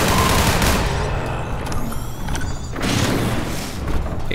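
Gunfire in Entropy Zero, a Half-Life 2 mod video game: loud, close bursts of shots, with a pause in the middle and a second volley near the end.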